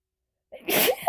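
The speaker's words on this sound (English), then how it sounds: "I have to sneeze. Give me a second." One sharp, close sneeze with a quick breathy intake before it, followed by a brief vocal sound.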